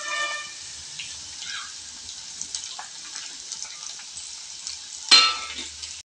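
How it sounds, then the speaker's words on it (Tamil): Crushed garlic frying with roasted lentils in a hot pan, a soft steady sizzle with light scrapes and stirring, and a sharper burst of hissing near the end when more goes in. "நான் வந்து கொஞ்சம் பூண்டு நல்லா பஞ்சா நசுக்கி வச்சுருக்கேன். அதையும் இதிலேயே போட்டு நம்ம ஃப்ரை பண்ணிக்கலாம்."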